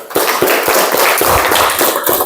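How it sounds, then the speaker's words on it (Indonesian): Hands clapping in a vocational classroom during a class 11 motorcycle DC lighting system check, about a dozen close, loud, evenly spaced claps over two seconds, with little else beneath. "Oke, tepuk tangan dulu."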